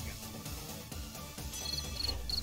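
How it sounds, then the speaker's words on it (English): Cricket chirping played as a soundboard effect in a Discord voice chat during a Jackbox party game, repeated high, thin chirps in a steady rhythm over faint room noise. "get rid of that cricket"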